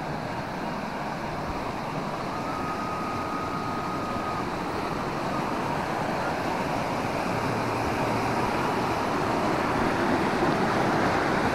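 A large, fast-flowing river rushes steadily beside a path to a remote village, a dense, continuous roar of water that stays loud and unbroken throughout, with no talking.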